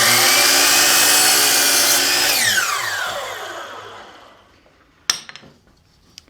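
A 45 degree miter saw cuts through a wooden piece for a star: a loud sustained whine and bite through the wood for about two seconds, then the blade spins down and fades, followed by a sharp clack near the end.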